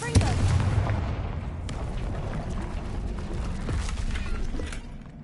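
Spell blasts in a Hogwarts Legacy fantasy battle: several sharp booms and bursts near the start and middle over a dense, rumbling backdrop of game effects and music, with a voice faintly present.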